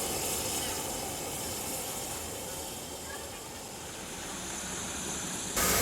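The Whitby steam bus gives off a steady, loud broadband hiss of steam that holds unbroken throughout, with a brief surge in intensity right at the end.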